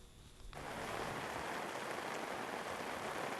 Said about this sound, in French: Il pleut des cordes sur la cité des 18 montagnes